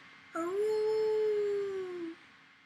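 A single coyote howl, long, rising then slowly falling, clear and sustained for nearly two seconds against a quiet background.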